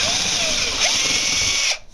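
A power drill whines steadily at high speed, loud and close, boring a larger hole into a door, with a slight dip in pitch midway before it cuts off abruptly near the end.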